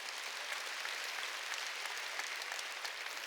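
A church congregation at a Sunday worship service breaks into dense, even applause, many hands clapping steadily at a fairly quiet distance with no voices over it.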